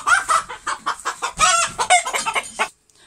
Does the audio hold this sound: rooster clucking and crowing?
yes